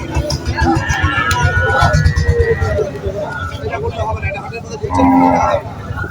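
Cattle at the Rajshahi City cattle market, the largest livestock market in North Bengal, give several loud, close moos over a busy background of crowd babble and people talking.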